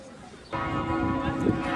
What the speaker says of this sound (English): all of the church bells are like a minute or 2 minutes apart